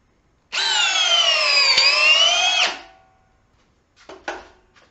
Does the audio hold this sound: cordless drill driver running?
yes